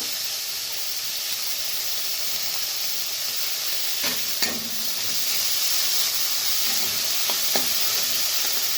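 Carrot and spring onion stir-fried in a pan for veg momo filling, a loud continuous sizzle and hiss with a few sharp scraping stirs from a utensil, no voices.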